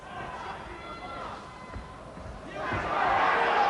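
A boxing crowd boos during a fight as a low, rumbling mass of voices under a commentator's talk, swelling louder toward the end.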